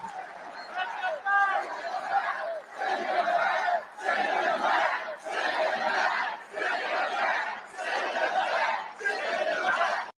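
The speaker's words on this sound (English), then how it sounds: "the crowd chanting, send them back" A political rally crowd chanting in rhythmic bursts, about eight evenly spaced loud phrases from many voices, with brief pauses between each.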